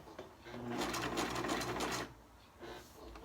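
A domestic sewing machine top-stitches along the edge of a fitted fabric face mask, with one steady, rapid whirring run of about a second, close and loud, then stopping.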